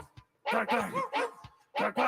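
A voice imitates a dog barking during a live performance of a song, giving several short, rhythmic bark-like shouts with brief pauses between them.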